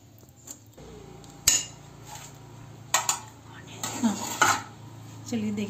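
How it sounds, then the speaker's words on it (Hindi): A spoon stirring eggless cake batter with vanilla essence in a bowl, giving irregular metallic clinks and scrapes against the bowl, near and moderately loud, with a voice talking over it. "ये 1 टेबल स्पून के करीब मैंने इसमें वनीला एसेंस डाल दिया है। मैं इसको अच्छे से मिक्स कर देती हूँ।"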